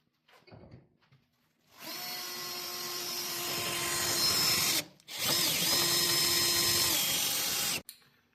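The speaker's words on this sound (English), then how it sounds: "I'm going to go ahead and drill with a 1/4 inch bit" A power drill with a 1/4 inch bit whines steadily at high speed through a beach ladder mount bracket in two long bursts separated by a short pause, loud and close, after a few faint clicks.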